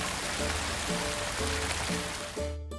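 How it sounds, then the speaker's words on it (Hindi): Water from a motor pump pours onto a farm field, a steady broadband rush like heavy rain, close and continuous, with a faint low periodic hum underneath. "मोटर से पानी भी डाला"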